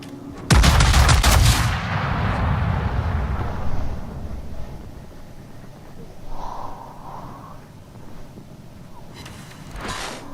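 A loud burst of battleship main guns firing in the naval video game World of Warships, a sharp opening salvo followed by a long fading rumble and a faint later boom.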